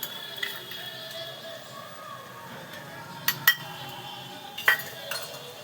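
Prawn chow mein tossed and mixed in a pan with utensils, sparse metallic clinks and scrapes at irregular intervals, a few sharper knocks standing out over a quiet background.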